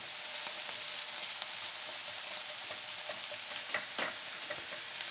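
Onions and mushrooms frying in a pan for a sandwich, a steady dense sizzle and crackle throughout with a few brief sharper pops, close and even in level, no voices.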